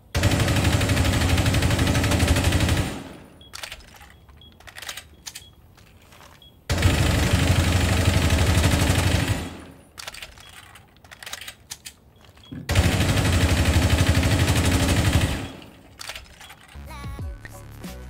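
Vigil's weapon in Rainbow Six Siege firing full-auto, three long sustained bursts of rapid loud gunfire lasting about three seconds each, separated by quieter gaps.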